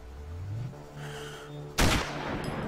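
A single sharp gunshot cracks out in the Sniper Ghost Warrior video game, fired at a tank, breaking through a low rumbling game background and leaving a brief decaying tail.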